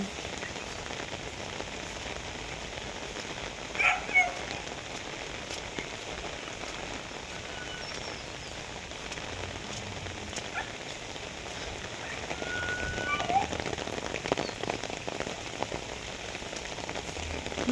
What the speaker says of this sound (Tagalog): Kaya nga sana tumigil na yung ulan.